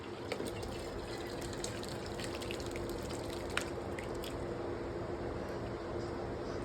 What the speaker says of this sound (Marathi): पातेलीमध्ये चाळण ठेवली आणि त्या चाळणीवर कपडा ठेवला आणि घालायचा.